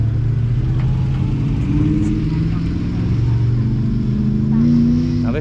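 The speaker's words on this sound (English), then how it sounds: "Now this midget coming out now looks really nice." An early classic MG Midget pulls out at a rally car show in the Chiltern Hills, its engine a steady mid-pitched drone close by, with people chatting over it throughout.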